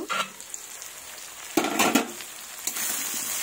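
Potatoes frying in oil in a covered pan, made for a fish curry, give a steady low crackle, with brief louder bursts of sizzle and stirring scrapes near the middle and end.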